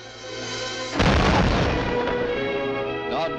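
Naval guns fire in an old archive broadcast. One heavy, close boom bursts out and rolls into a long, loud rumble that slowly fades away, with a thinner crack near the end.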